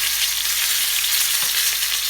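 Chicken-stuffed eggplant fries in oil in a pan, a loud, steady, close sizzle throughout with no talking.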